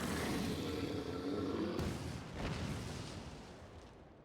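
Cannon volley in Final Fantasy XIV: a dense, loud rumbling blast wall that holds steady, then a second heavy burst around the middle before a slow fading roll of booms, no talk.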